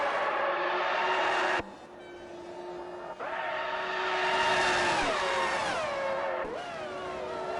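Ferrari F2004 Formula One engine in a racing video game, a loud sustained high-pitched whine that drops abruptly with gear shifts and climbs again, revving continuously throughout.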